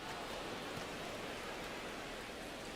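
Steady rain falls across a baseball stadium in MLB The Show 26, a broad, even hiss of drops that never lets up. It is constant and fairly loud, with no voices over it.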